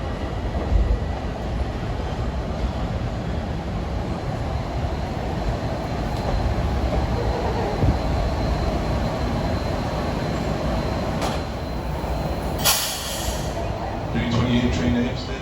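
An M9 commuter train rumbles steadily through Forest Hills station at rush hour, a continuous broad roar of wheels and cars with brief higher squeals and clicks near the end.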